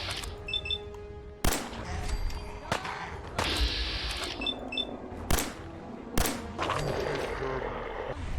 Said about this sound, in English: There was gunfire.